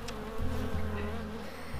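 Honeybees hum in a dense, steady drone inside a hive during a cold January inspection of pollen-filled frames, close and continuous with no voices.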